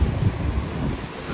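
Sea breeze gusting against the microphone beside the Paracale lighthouse, a steady broadband rumble of wind lasting throughout, close and fairly loud, with no voices.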